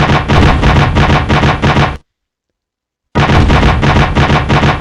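Naval big guns firing in the Command: Modern Air/Naval Operations war game, a loud continuous barrage of booming shots that cuts to total silence for about a second, then resumes just as dense.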